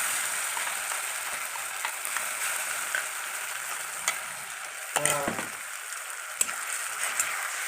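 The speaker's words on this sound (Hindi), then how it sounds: "अब ये होने सॉफ्ट हो गया है, प्याज थोड़ा सॉफ्ट हो गया, अब डालने का टाइम हो गया, तो हम इसमें ये डाल देते हैं, ऐड कर देते हैं।" Tomato, chilli, garlic and ginger paste goes into softened onions in a hot pan, giving a steady close sizzle and frying hiss with a louder burst of crackle as it lands, with no talking.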